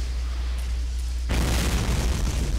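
A sudden loud explosion in the video game Borderlands, a sharp broadband boom bursting in after a low steady rumble and roaring on as a dense blast.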